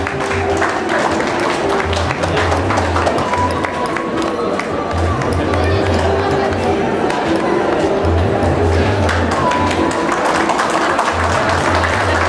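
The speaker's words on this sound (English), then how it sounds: "the audience should join together in this felicitation with your clapping" Audience clapping at a felicitation ceremony: dense, steady applause from a large crowd fills the whole stretch, with a rhythmic low beat and occasional cheers underneath.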